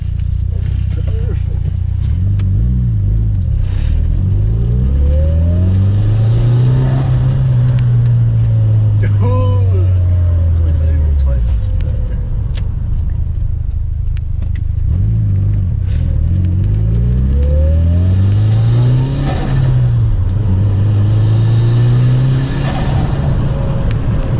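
A Mitsubishi Evo engine with a new intake revs hard in repeated rising sweeps, with popping two-step launch-control bursts between pulls; loud and close, with people shouting over it.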